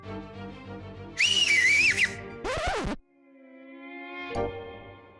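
A loud, piercing human whistle rises and wavers for about a second, followed by a shorter sharp whistled burst, then quieter sustained tones and a brief accent near the end, with no talking.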